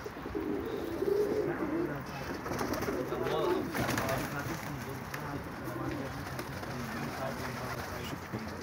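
Pigeons cooing softly at a rooftop loft, low rolling coos repeating through the clip under a faint steady background, with people talking quietly nearby.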